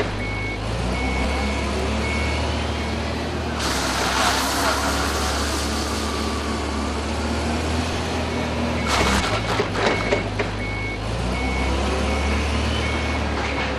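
A Linde hydrostatic forklift drives and reverses, its steady intermittent reversing beeper repeating throughout over a continuous engine drone, with louder mechanical bursts midway.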